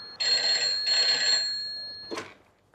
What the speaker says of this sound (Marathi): हा शरद काका, तुमचा फोन.